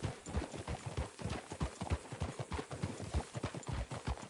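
Horse hooves clip-clop steadily on a trail in the Red Dead Redemption II video game, a brisk, even rhythm of soft thuds held at moderate volume throughout.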